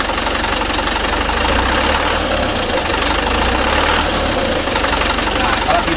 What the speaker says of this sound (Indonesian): Nah contohnya gini ya, digas pelan agak meresap sedikit